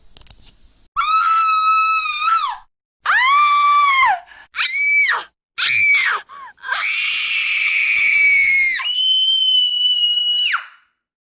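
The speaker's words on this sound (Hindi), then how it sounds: "अगर कोई लड़की कॉकरोच, छिपकली या इस नस्ल की कोई भी चीज़ देखकर चीख मारे" A girl screams repeatedly in long, loud, piercing bursts, several separate shrieks with short gaps, rising and falling in pitch, the way someone shrieks on spotting a cockroach or lizard; no other sounds around them.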